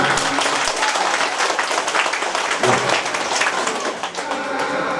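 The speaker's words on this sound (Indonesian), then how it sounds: "Ya, tepuk tangan." Loud, dense applause from a large crowd carries on steadily for the whole stretch, with a few voices faintly mixed in.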